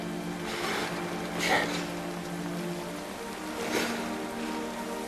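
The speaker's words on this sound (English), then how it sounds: "Very hard to keep your eyes open when the rain is just pouring down." Heavy rain pouring down in a film scene, a steady dense hiss of falling water with a couple of brief louder swells, no voices.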